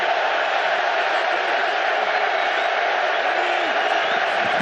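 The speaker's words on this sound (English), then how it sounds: "what feels like a partisan Seattle crowd making noise with the Seahawks on defense" A partisan Seattle Seahawks crowd roars steadily in a Super Bowl stadium while the Seahawks are on defense, a dense, loud, continuous wash of noise with faint shouts rising out of it.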